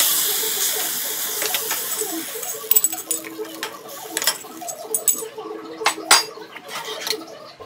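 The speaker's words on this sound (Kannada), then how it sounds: "ಸಾಸಿವೆನ ಹಾಕ್ಕೊಂಡು ಇದು ಚಟಪಟ ಅಂದಮೇಲೆ ಇದಕ್ಕೆ ನಾವು ಕರಿಬೇವಿನ ಸೊಪ್ಪು ಮತ್ತು ಬೆಳ್ಳುಳ್ಳಿ, ಒಣಮೆಣಸಿನ್ಕಾಯಿ, ಈರುಳ್ಳಿ, ಸ್ವಲ್ಪ ಹಿಂಗು ಇಷ್ಟನ್ನು ಹಾಕ್ಕೊಂಡು ಫ್ರೈ ಮಾಡ್ಕೊತಾ ಇದ್ದೀನಿ" Mustard seeds, curry leaves, garlic, dried chillies, onion and a pinch of asafoetida fry in hot oil, giving a steady hiss broken by sharp crackles and spluttering pops that grow busier in the second half.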